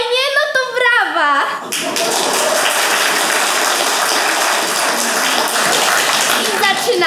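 Audience applause at a senior safety event in Radzanowo, heard as a dense, sustained wash of clapping that starts after a brief spoken phrase and continues loud and even to the end.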